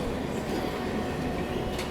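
A Puri MEMU passenger local train pulls into a station platform, a steady, close rumble of wheels and carriages filling the moment with no voices.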